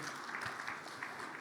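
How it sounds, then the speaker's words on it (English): An audience applauds a speaker in a steady wash of clapping that lasts through the short moment with no pauses. "Another round of applause for her, please."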